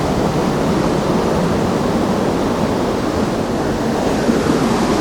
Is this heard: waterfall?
yes